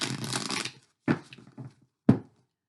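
Cards are riffled and shuffled in a few quick bursts: one longer riffle, then two short snaps, alone and close.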